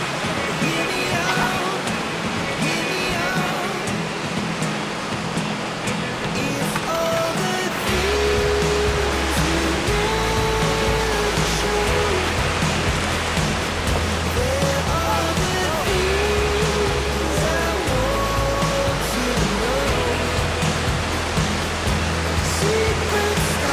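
Sea waves wash onto a beach beside a coconut-tree campsite, a continuous broad roar of surf with a low rumbling undertone, steady and fairly loud throughout.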